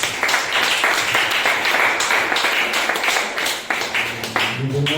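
A church congregation applauds together in a loud, continuous wash of clapping, dense and close, with some voices mixed in and a few sharper individual claps standing out near the end.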